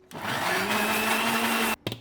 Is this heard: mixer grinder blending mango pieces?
yes